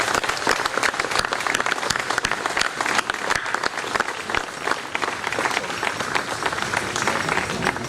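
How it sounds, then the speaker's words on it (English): An audience at the reopening of La Pirogue hotel in Mauritius applauds the long-serving staff, dense sustained clapping from many hands filling the room without a break. "if we could applaud the staff that have been here for so long"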